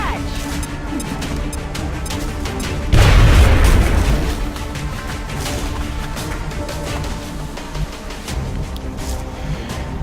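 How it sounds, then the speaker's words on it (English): A frag grenade goes off in the X-Com video game: one loud, deep boom with a crashing burst that decays over about a second, set against a steady game background hum. "we'll go with the frag grenade strategy"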